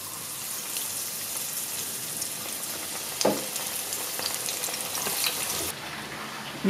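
Korean-style chicken pieces frying in hot oil, a steady close sizzle with occasional stirring clatter and small pops, no voices.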